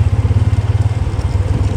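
Motorcycle engine chugging on a rocky mountain track of fine loose stones on the route to Krambar Lake in Chitral, a steady close low throb with rough clattery pulses throughout.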